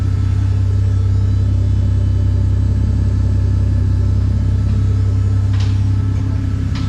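A VL Commodore fitted with a turbo Barra Greentop engine idles loudly and close up, a steady deep rumble with a lumpy pulse and a brief faint clatter near the end.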